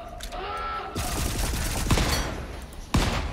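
Gunfire in the video game Volcanoids, loud close bursts of rapid shots with a sharp single crack near the end.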